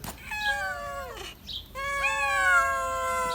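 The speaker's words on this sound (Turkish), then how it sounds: "Aa şu hamile kedi gelmiş." A pregnant cat meows several times close by, drawn-out plaintive calls with a brief pause between them.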